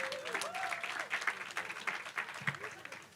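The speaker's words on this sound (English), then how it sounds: "So let's give them a round of applause." Applause for a staffing team at an HR event in Columbus, Ohio: a crowd clapping steadily while voices and cheers rise over it, the level fluctuating through the stretch.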